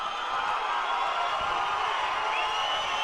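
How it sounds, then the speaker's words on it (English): A fight crowd at RITC 80 reacts with sustained, fairly distant cheering and murmur, a steady wash of voices without sharp peaks. "And the crowd seems to be very happy about that."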